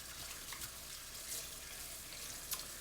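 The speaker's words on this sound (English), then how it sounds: "Give our hands a good wash now." Running water from a kitchen tap as hands are washed at a sink during home cooking, a steady broadband wash with small splashes and drips, moderately faint and without talk.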